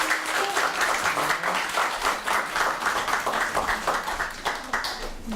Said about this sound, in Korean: 좋은 말씀해 주실 우리 그 회장님께 힘찬 박수 한번 부탁드립니다